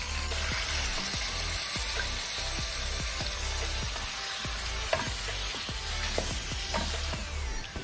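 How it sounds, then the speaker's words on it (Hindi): Chicken with garlic and ginger paste frying in a pan, a loud continuous sizzle broken by repeated scraping and stirring strokes, close up with no talking. "अभी मैंने इसके अंदर कुछ भी नहीं डाला, सिर्फ चिकन है और लहसुन और अदरक का पेस्ट है, इसी के साथ मैं इसकी भुनाई करूँगी।"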